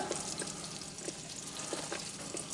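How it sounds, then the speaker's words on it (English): Eggplant slices fry in a pan during home cooking for lasagna, giving a steady soft sizzle with faint crackles throughout, close by and with no talking. "So I'm gonna have them frying"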